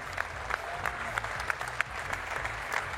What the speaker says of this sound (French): On peut les applaudir déjà.